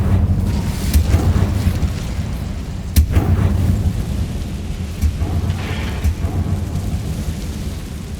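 An Incendio fire spell cast in Hogwarts Legacy, heavy rumbling whooshes with sharp bursts that crack out at intervals, loud and boomy against a dense roaring background.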